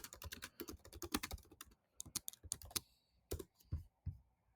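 Fingers typing a message on a computer keyboard, a close, quick patter of crisp key clicks in uneven bursts with brief pauses between.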